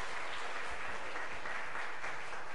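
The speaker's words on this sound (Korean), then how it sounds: "다시 한번 큰 박수 한번 보내주시면 고맙겠습니다" Congregation in a Korean church clapping during a worship service, a continuous wash of many hands at moderate, steady volume without pause.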